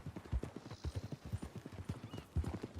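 Horse hooves clip-clop steadily in Red Dead Redemption 2, a close, rhythmic run of hoofbeats with a faint whinny mixed in, playing on its own without talk.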